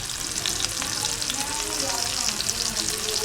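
Chopped onions frying slowly in a pan for tawa kaleji masala, a steady dense sizzle that holds throughout, close and even, with faint stirring underneath.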